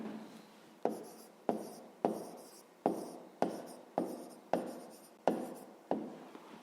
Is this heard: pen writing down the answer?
yes